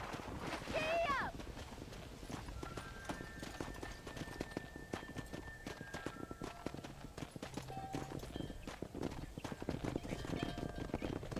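Horse hooves pound in a steady galloping clip-clop through the Red Dead Redemption video game during a cattle drive, continuous and fairly faint, with a brief shouted voice near the start and whinny-like game sounds over the run.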